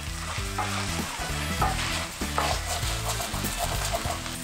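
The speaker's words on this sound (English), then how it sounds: "You see those brown bits at the bottom of the pan? What we're gonna do is scrape those up." A utensil stirs and scrapes browned bits from the bottom of a hot pan of chicken chili, with a steady sizzle and scraping that runs throughout under a continuous bed of music.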